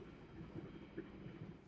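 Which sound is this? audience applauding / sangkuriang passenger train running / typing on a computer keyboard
sangkuriang passenger train running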